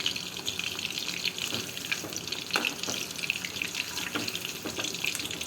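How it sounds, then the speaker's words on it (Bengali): Steady crackling sizzle of mutton meatballs frying in hot oil while being turned, with occasional louder pops and spatters, continuous and close throughout. "উল্টে পাল্টে হালকা লাল করে ভেজে নিচ্ছি"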